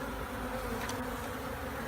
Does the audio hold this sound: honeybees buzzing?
yes